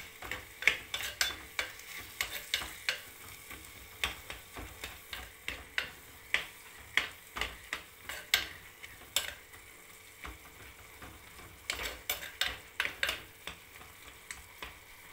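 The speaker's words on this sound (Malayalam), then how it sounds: "നന്നായിട്ടൊന്ന് ഇളക്കി കൊടുക്കാം" Turmeric and chili powder being stirred in a pan, the spoon scraping and tapping the pan in a quick, regular rhythm over a soft sizzle, close by and fairly quiet, with no voices.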